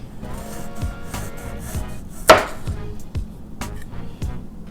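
Dollar Tree kitchen knife cutting through food on a cutting board, a series of soft, evenly spaced chops with one sharper, louder knock partway through, close and without talk.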